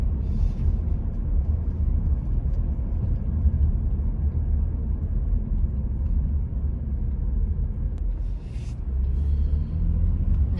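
A car driving past golf course homes and condos near Disney, its engine and road rumble steady and fairly loud throughout, with no talk.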